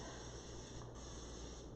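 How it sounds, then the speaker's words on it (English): Cooking spray hissing steadily onto an air fryer basket held over a sink, a faint continuous aerosol spray with no talking. "So go ahead and spray the basket."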